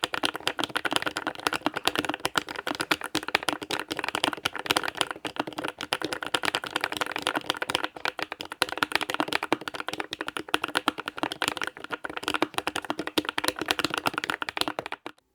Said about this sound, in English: Here's a sound test to show you guys just how unique this keyboard sounds.